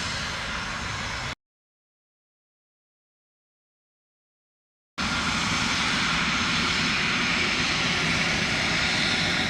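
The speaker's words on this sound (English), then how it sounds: "That's the plane that's been making all the racket." A fixed-wing airliner arriving at Dallas Love Field from Houston Hobby roars loudly and close with steady broadband jet rumble, cutting out for several seconds mid-pass and then returning at full strength.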